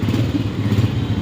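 A motorcycle engine rumbles steadily close by, a low, continuous drone with faint clatter, as riders set off for a Palestine protest in 2025.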